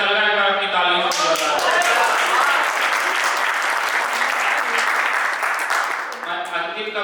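An audience at a Hindi poetry recital bursts into loud sustained clapping that cuts in over a speaking voice, holds strongly, then fades as talking resumes.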